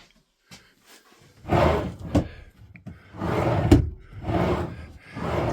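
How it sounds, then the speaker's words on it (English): A handmade wooden drawer is pushed into a fitted unit inside a campervan, giving several scraping, rumbling slides and knocks in short bursts between quiet pauses. "So, let's get this drawer fitted, eh? Right then, there's the drawer fitted."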